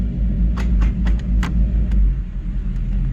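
A 1994 Chevrolet Caprice running Holley Terminator X Max EFI drives off, its loud, steady low engine rumble continuous throughout with a few short sharp clicks and knocks on top, and no talking.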